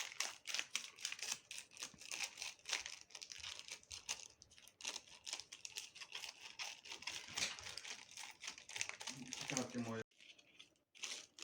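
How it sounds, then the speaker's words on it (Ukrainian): Scissors snip through the plastic packaging of a 20 ml syringe, a dense run of crisp crinkling and cutting clicks up close, with a short pause near the end. "Ріжемо цю упаковку від шприца."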